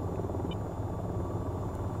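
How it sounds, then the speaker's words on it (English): Attack helicopter rotor and engine from the AH-94 in the VR flight game VTOL VR, a steady, loud low rumble with a faint whine on top that holds unchanged and alone throughout. "being in a helicopter with a vertical takeoff"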